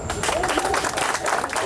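Audience at a Champions of Character Day event clapping for Pastor Poe, a short steady burst of applause mixed with crowd voices.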